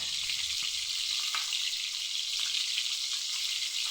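Galunggong fish frying in hot oil, a continuous close sizzle and crackle with small spattering pops running steadily throughout, no voices.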